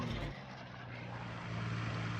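Race aircraft at an air race sweeping past, a steady droning engine roar with a low hum that swells slightly toward the end, fairly distant and continuous.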